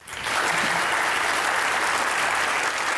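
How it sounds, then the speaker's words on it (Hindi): Studio audience at a Pakistani talk-show interview applauding, a dense steady burst of many hands clapping that swells in quickly and holds at full strength throughout. "अपने लिए तालियां बजाएं प्लीज।"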